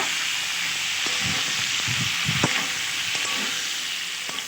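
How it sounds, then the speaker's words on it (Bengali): Cauliflower pieces fry in hot oil with a little salt and turmeric, stirred in a pan: a steady, close sizzle with soft scraping stirs throughout, no voices. "এবার খুব ভালোভাবে নেড়ে চেড়ে কপিগুলো ভেজে নেব"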